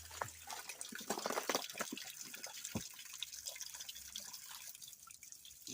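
Water trickles and drips from a natural spring on a woodland hike, a close, continuous babble with irregular splashy drops and no talking.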